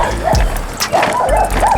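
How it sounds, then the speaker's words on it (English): A dog barks and yips a few times close by over about two seconds, with short whining rises between the barks and a steady background noise underneath. "there's a dog back there, I know"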